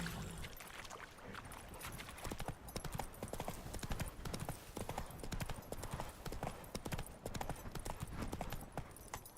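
Roach, the horse in The Witcher 3 video game, gallops with rapid, continuous hoofbeats pounding at an even, driving rhythm throughout.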